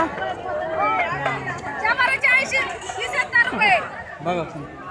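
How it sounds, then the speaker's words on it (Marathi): Crowd of customers at a weekly village market in Mandavgan Pharata, a steady babble of many overlapping voices and chatter close around, busy and continuous throughout. "लक्ष्मीच्या निमित्ताने ग्राहकांची होत असलेली या ठिकाणची गर्दी"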